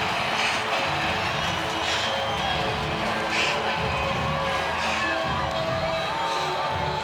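A large college football stadium crowd at Clemson roars and cheers as the team buses arrive, a steady, dense wall of distant voices with occasional whoops rising above it.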